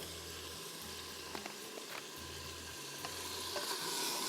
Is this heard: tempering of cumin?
yes